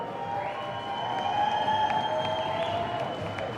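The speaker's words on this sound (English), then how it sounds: "Keep that round of applause going for Tom Creasy, Matt, and all of the Source staff" Sustained applause and cheering from an audience at a live event, a steady broad wash of clapping that holds for several seconds at moderate distance, with tonal hum and music-like lines running beneath.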